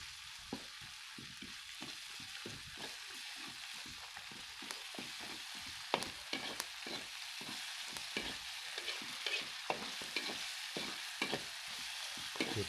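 Octopus stir-fried in a 1970s wok, a constant sizzle broken by rapid, rhythmic scraping strokes of the spatula against the metal, close and steady throughout.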